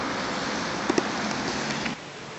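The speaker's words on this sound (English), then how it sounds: "Okay, pity about the rain." Rain falls steadily on a city street in Toulouse, a dense, even hiss of drops that holds for about two seconds before easing slightly, with a couple of faint knocks partway through and no voices.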